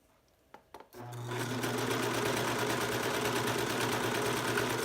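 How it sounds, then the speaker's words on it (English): A serger overlock machine stitches a seam on stretch tights: after a few sharp clicks it starts up and runs in a loud, steady, fast-humming drone to the end, with no talk. "keep right on serging"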